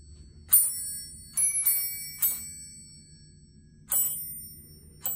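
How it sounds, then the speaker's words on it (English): Metallic chimes from a holiday bell contraption glockenspiel bought at Sears, struck in separate bright dings with ringing decay, a few close together then a pause before more, clear and alone in a quiet room. "I got this bell contraption at Sears in College Mall,"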